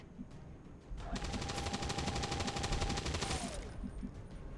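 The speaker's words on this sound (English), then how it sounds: "We're gonna go ahead and suppress. Suppressing fire on target." Sustained automatic suppressing fire in the XCOM Long War video game, a rapid burst of gunshots lasting about two and a half seconds over steady game background noise.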